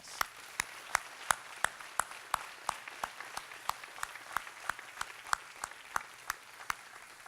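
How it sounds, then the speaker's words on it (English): Sparse, evenly spaced claps from a small audience at a Laurus College commencement ceremony, a steady rhythm of single sharp hand claps heard at a moderate distance with no voices. "Let's give them a round of applause."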